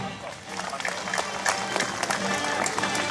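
Crowd applause at a knights' tournament at Golub castle in Golub-Dobrzyń, a dense continuous patter of many hands that swells slightly over about three seconds, heard from within the audience with some voices mixed in.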